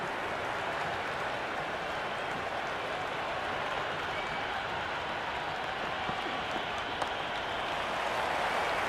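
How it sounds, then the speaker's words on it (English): A large crowd at a Big Bash T20 cricket match, Hobart Hurricanes versus Melbourne Stars, roars and applauds in a steady, dense wash of cheering and clapping that holds at a constant level throughout. "The crowd is electric right now."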